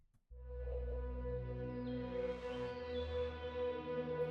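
Layered synth pads, including a low bass pad from the Diva synth, swell in after a brief pause and hold a sustained, warm chord, soft and evenly drawn out with a brighter layer entering midway.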